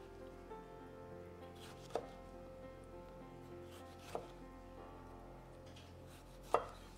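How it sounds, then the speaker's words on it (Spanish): A knife cuts a tomato into thick rounds on a board, three separate dull chops spaced a couple of seconds apart, quiet and close, with no voices. "Y cortamos también en rodajas gorditas"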